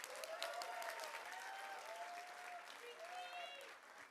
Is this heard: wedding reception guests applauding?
yes